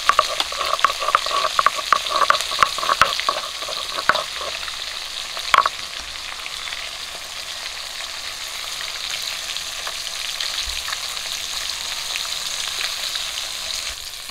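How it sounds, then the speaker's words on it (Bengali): Rohu fish pieces fry in hot oil with a crackling, spitting sizzle that is busiest and loudest at first, then settles into a softer, steady bubbling hiss. "মাছগুলো একই রকম করে ভেজে নেব।"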